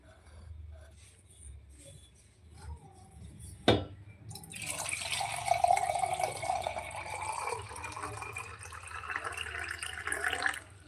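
Water is poured into a kalash pot for a Navratri ghatasthapana ritual, starting with a few faint drips and a sharp tap, then a soft, steady splashing pour that continues to the end.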